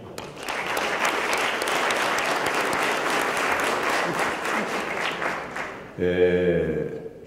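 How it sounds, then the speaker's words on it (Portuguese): An audience at a special commemorative session for the 56th anniversary of CIGS applauds steadily for about six seconds, dense and moderately loud, before a voice starts speaking over the last moment. "Um aplaudinho, Serafim."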